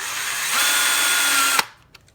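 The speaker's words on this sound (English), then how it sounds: "I think I might have to drill this one just a teeny bit differently" Power drill boring into a wooden pen blank for woodturning, a steady high whine that rises in pitch partway through, then cuts off abruptly with a short clatter as it stops.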